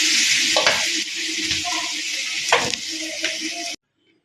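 Ingredients sauté in a hot pan with a steady loud sizzle, broken by several scraping stirs of a utensil against the pan, before the sound cuts off abruptly.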